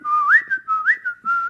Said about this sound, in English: If you think about like a bird whistling